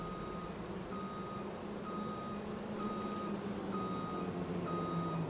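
Vehicle reversing alarm in Farming Simulator 25 at a construction site, a steady train of evenly spaced high beeps about once a second over a low engine drone, moderately distant.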